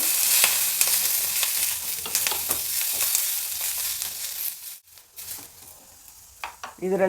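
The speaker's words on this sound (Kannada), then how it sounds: "ಇದನ್ನು ಚೆನ್ನಾಗಿ ಹುರ್ಕೊಳ್ಬೇಕು" Onion and garlic fry in oil in a pan with a bright, steady sizzle, broken by scraping stirs and a few sharp clanks, close and moderately loud before thinning out near the end.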